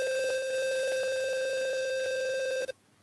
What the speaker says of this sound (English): Now I think you are able to hear that buzzer sound in a well manner.